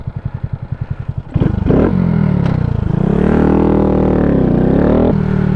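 A 2023 Honda Grom motorcycle engine, its exhaust fitted with a silencer, idles in a quick pulsing beat, then revs up and holds a loud, steady drone with a prominent intake roar close by, its pitch wavering slightly.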